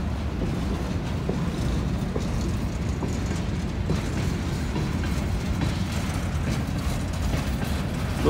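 A freight train of auto racks carrying new cars rumbles past a level crossing in Trenton, Ohio, a steady heavy roar with faint rhythmic clatter of wheels running on and on.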